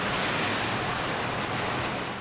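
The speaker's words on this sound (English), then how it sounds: "To create the rogue wave, we have a dump tank, which is 2 sea cans on top of each other" A dump tank built from two stacked sea cans releasing about 3,000 gallons of water at once to create a rogue wave: a dense, loud rushing roar of falling water, steady throughout the brief moment with no voices.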